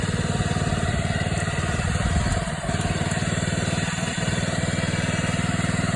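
A Mountfield M3 self-propelled, electric-start 18-inch roller petrol lawn mower engine runs steadily nearby, a loud, even putter with a brief dip midway and no voices.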